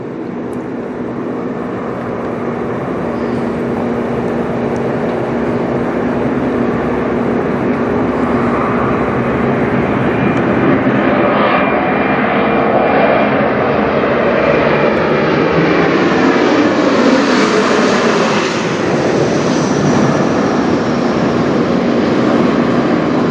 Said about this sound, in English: Next we got a Mitsubishi CRJ900LR coming from Pittsburgh, CGJZS, Air Canada Express, Jazz Aviation.